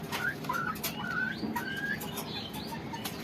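Shahjahanpuri pigeons in a loft with short chirps and faint calls over a steady low background murmur, fairly quiet and continuous.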